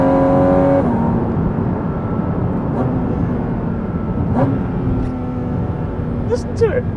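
Porsche 718 Cayman GT4 RS flat-six engine on a wet road, a strong engine tone at first that drops away to a lower steady drone, with someone talking over it.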